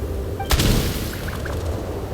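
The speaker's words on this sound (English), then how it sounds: "There's the gunshot." A single loud gunshot booms out in the Genshin Impact game inside a snowfield hunter's cabin, with a sharp attack that decays into a short ringing tail over steady background ambience.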